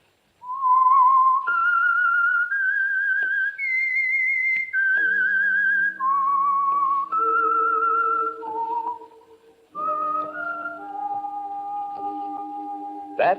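A lone whistler carries the theme tune of The Whistler radio mystery program, a slow, eerie melody of sustained notes rising and falling, close and clear with a brief pause before the final phrase.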